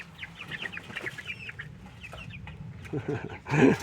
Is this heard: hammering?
no